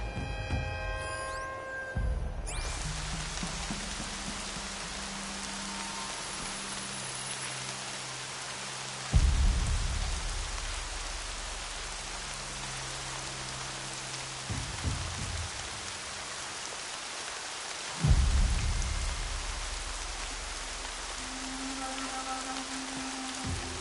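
Steady rain patters continuously while low rolling thunder rumbles in twice at roughly even intervals, each swelling then fading back into the downpour; no voices are heard.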